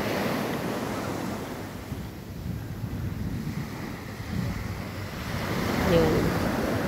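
Rough sea after a typhoon, with a steady roar of surf and waves mixed with wind buffeting the microphone, loud and continuous and swelling slightly near the end.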